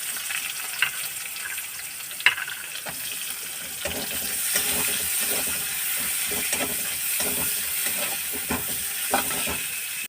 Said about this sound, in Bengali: এই তেলের মধ্যে পেঁয়াজটাকে ভালো করে মিশিয়ে নেবো